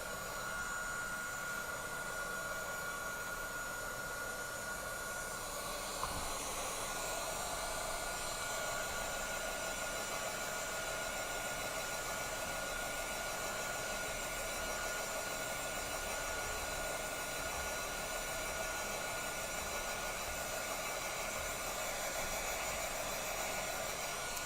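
A heat tool blows hot air onto small white craft pieces, a continuous airy whir that stays steady and fairly quiet throughout, much like a hair dryer running alone.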